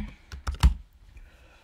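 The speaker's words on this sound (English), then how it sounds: "and you enter your password." A handful of quick, close keystrokes on a computer keyboard as a password is typed, with the loudest clack near the middle, followed by quiet.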